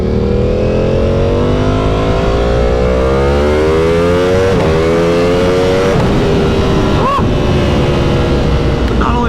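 Motorcycle ridden through city streets, engine droning loudly and steadily with rising and falling revs as it accelerates and shifts, heavy rumble filling the whole stretch, with traffic noise around.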